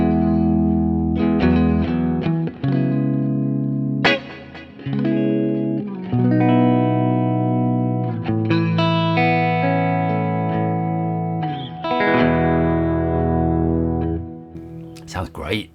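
Electric guitar played through Kemper Profiler amp profiles, a dense effected tone with distortion and heavy delay and reverb, phrases of sustained notes and chords ringing out continuously at close, loud level with no talking over it.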